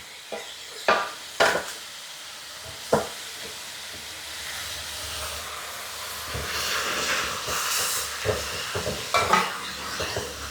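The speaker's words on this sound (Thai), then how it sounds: "ใส่ผักกันจองเลยค่ะ ผักกันจองลงไปผัดเลยค่ะ" Pak kan jong greens and pork stir-fried in a pan, with a steady hiss and sizzle broken by sharp spatula clinks and scrapes against the metal, loudest near the start and toward the end.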